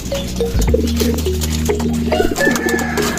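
Pigeons coo at close range inside a training box, with low rounded calls repeating over a steady murmur of birds and faint rustling.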